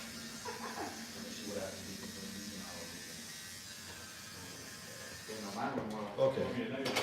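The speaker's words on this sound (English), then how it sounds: "The edges I'm using are from old school, a trimmer." Electric hair trimmer buzzing steadily at moderate volume while fading the edges of a haircut at a barbershop, with a few louder bursts near the end and someone talking over it.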